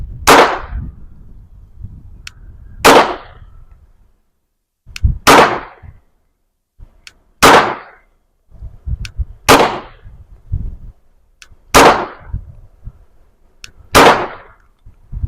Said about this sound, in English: And I'll hold in the trigger and I'll release till I get a click, click, bang.